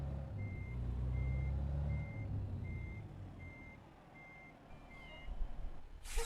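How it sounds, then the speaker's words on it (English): Reversing beeper on a tractor-trailer rig in American Truck Simulator, a steady series of evenly spaced electronic beeps over a low idling diesel rumble, with a brief hiss near the end. "I don't like having the backup beeper waking guys up"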